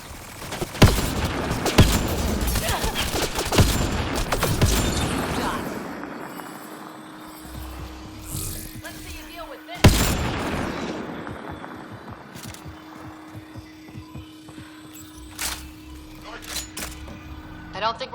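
Gunfire rattles through combat in Mass Effect Andromeda, with rapid bursts and sharp cracks early on, a loud impact midway and scattered shots later over a steady hum. Voices talk throughout.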